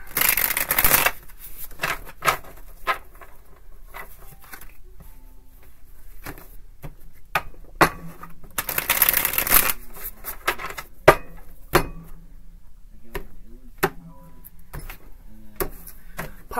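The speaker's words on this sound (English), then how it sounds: "I'm gonna call two shuffles." Tarot cards are shuffled by hand, with two loud riffling bursts and many soft taps and slaps between them, close and clear with no talking.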